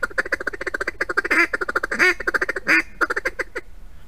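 A duck call mimics a hen's quacking in a fast, steady series of short quacks, broken by a few longer raspy notes, close and clear.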